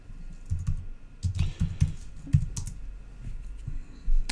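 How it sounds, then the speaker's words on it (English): Rapid clicking of keys on a computer keyboard as a command is entered, irregular bursts of close, crisp taps with short pauses, no talking. "if I type in the correct command"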